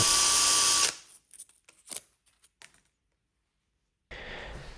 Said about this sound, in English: I want to really smooth and polish those commutators with some 1000 grit and a drill.